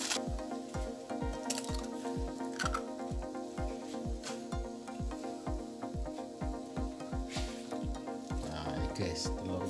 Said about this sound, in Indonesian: Setelah itu kita masukkan telur.